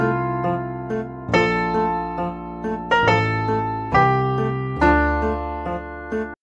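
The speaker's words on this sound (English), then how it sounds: "I found this Baroque harp, part of the augmented piano, sounds like this." A sampled Baroque harp voice from the Augmented Piano plays a chord pattern of plucked, ringing notes and chords, each attack decaying slowly into the next, clear and close with no talking.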